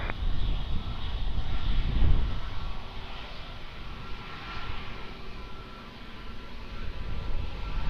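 Jet engines of an airliner at Lisbon Airport near runway 02 give a steady, broad roar that swells briefly around the second second, then holds at a moderately loud, continuous level with no talk.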